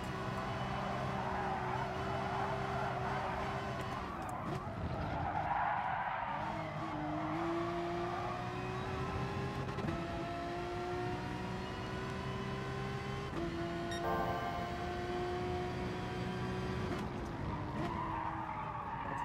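A car in the GT Sport racing game brakes too late, its tires skidding and squealing over a continuous engine roar that rises and drops through gear changes.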